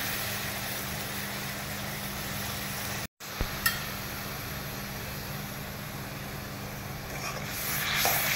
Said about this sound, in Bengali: তেলটা গরম হলে এটা টমেটোটা দিয়ে দিলাম।